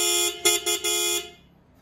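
Three loud, close blasts from an aftermarket GLI horn on a motorcycle: a long honk, a short toot, then another long sustained blare that cuts off abruptly.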